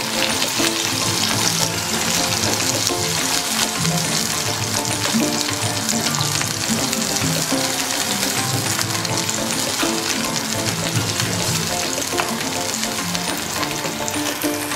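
Liquid for Indonesian taichan satay bubbles and sizzles in a hot pan over medium heat, a steady crackling hiss that continues without pause for the whole stretch.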